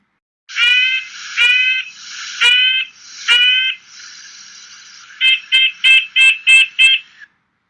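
A red-breasted nuthatch gives repeated nasal, tinny toy-trumpet notes, first a few drawn-out calls, then a quick run of short, evenly spaced honks, clear and close.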